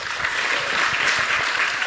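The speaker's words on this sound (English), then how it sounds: "Clap for Jeff" Sustained applause from an audience at an outdoor political rally of Kenya's UDA party, dense and steady with no break, loud and close throughout.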